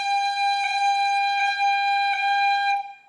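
Tin whistle held on a steady G with quick tap ornaments from flicking the F finger, a pure bright tone broken by three brief blips before it stops, played alone and close.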